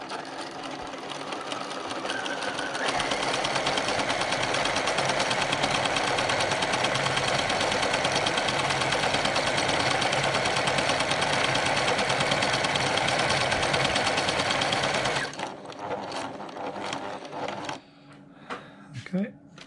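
A PFAFF 1475CD Creative Designer sewing machine stitches a single embroidery motif with a steady, rapid mechanical whirr lasting about twelve seconds, then stops, leaving a few soft clicks and handling noises.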